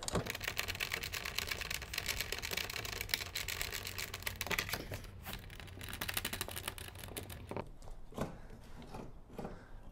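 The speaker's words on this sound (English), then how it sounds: "I'm going to tighten that down with the mighty knobs here" Knobs on a kayak foot steering mount being tightened down, a dense run of close clicking, ratcheting and rubbing, fading away toward the end with no talk over it.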